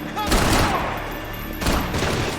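Heavy suppressing gunfire in the Max Payne 3 video game shootout in a Brazilian favela, two loud bursts of rapid shots with shouting mixed in.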